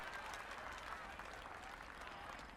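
Spectators applaud in the EA Sports PGA Tour video game at Augusta, a steady, dense wash of clapping that holds evenly for a few seconds without letting up.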